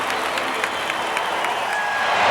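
Crowd noise at a baseball stadium during a 1992 Atlanta Braves game, a steady roar of applause and cheering from a large crowd that holds throughout and swells slightly at the end.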